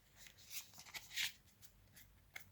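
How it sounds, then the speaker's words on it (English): Oracle cards from an illustrated herbiary deck being shuffled by hand, a quiet run of soft papery riffles and slides heard close and alone. "I'm just going to keep on shuffling until I feel the need to stop"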